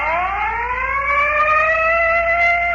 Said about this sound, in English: whenever you hear the siren bell